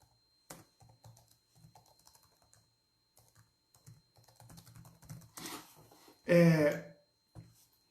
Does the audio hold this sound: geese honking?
no